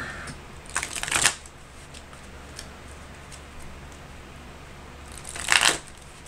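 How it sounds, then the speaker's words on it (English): A deck of Marvel Champions encounter cards is riffle-shuffled twice at close range, two brief crisp rustling bursts separated by a few seconds of quiet room tone. "And then we'll shuffle the encounter deck."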